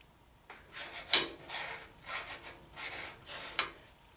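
A jointer knife is sharpened in place on its cutter head with a hand sharpening tool, making about eight quiet, even rasping strokes in a steady back-and-forth rhythm, close up and alone.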